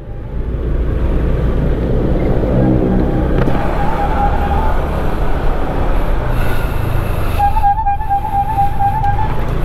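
A bread seller's jingle plays from a loudspeaker on a box truck passing through a narrow lane in the cool air after rain: two bursts of a repeating electronic tune over heavy, close engine and road noise.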